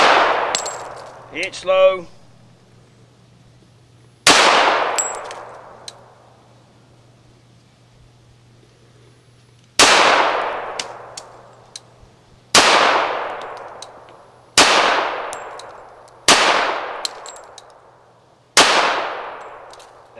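Pistol shots from a Colt Combat Unit ring out against a steel target, each sharp crack followed by a long metallic clang that fades away. Seven spaced shots come at an irregular pace, and a brief voice is heard near the start.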